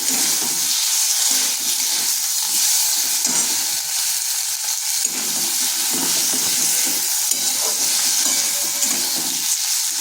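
Chili powder and tomato stir-fried in a pan for a vegetarian elephant-foot-yam dish: a steady, close sizzling hiss runs throughout, with soft scraping of the spoon as the masala is stirred and no talking.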